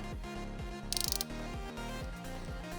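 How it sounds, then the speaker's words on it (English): Ratchet turning on a cap-style wrench to loosen the oil filter of an Audi A1, a close mechanical whirring with rapid ticking clicks in a short burst, no talk. "you attach a ratchet from a basic socket set to loosen it"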